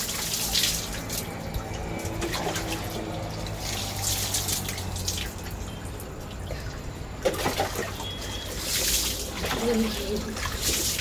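Water runs continuously from a tap during a bath, a steady splashing flow with bursts of pouring, while someone talks over it.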